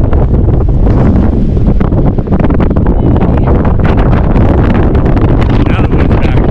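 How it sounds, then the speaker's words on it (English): Strong wind roars across a mountaintop at about 10,500 feet, a loud, continuous gusting rush and microphone buffeting that fills the whole stretch with no let-up. "Now the wind's back."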